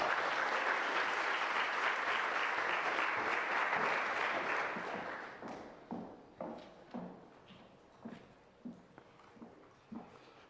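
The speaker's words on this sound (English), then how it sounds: "Let's give her a round of applause." Audience applause at a business lecture event, a dense round of clapping that fades after about five seconds, followed by isolated footsteps or thumps as someone walks to the podium.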